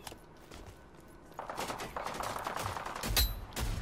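Pistol and revolver shots in the shooter game Rogue Company: a few sharp cracks over a busy game backdrop, with one louder close shot near the end and another burst right after.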